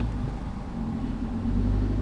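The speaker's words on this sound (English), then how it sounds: "It's fun drifting through the mud too." A Suzuki S-Cross Hybrid drives off-road through mud, its engine giving a steady low rumble with a slight rise in revs over a couple of seconds, heard from inside the car.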